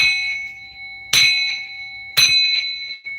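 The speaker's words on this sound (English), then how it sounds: "I'm gonna bang this bell to cleanse my energy." A metal bell struck twice, each hit a bright close ring that sustains and slowly decays, with a long steady tone lingering between strikes; no talk.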